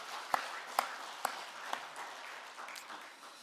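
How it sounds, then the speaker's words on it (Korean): A church congregation applauds the choir after a Lenten anthem, with soft, steady clapping punctuated by four sharp, regularly spaced louder claps near the start. "우리 찬양대의 감사와 하나님께 영광의 박수 올려드리겠습니다."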